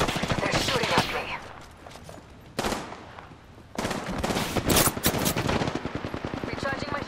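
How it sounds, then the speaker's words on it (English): Rapid bursts of automatic gunfire from enemies in a shooter video game, loud and dense, cracking in clustered volleys with a short lull in between. "They're shooting at me."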